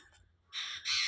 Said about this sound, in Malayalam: ഏത് കിളിയാ അത്? മഞ്ഞക്കിളിയാ?